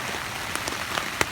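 Heavy rain drums on tarps at a forest camp: a steady, close hiss of falling water broken by sharper, louder drops striking the fabric, with no voices.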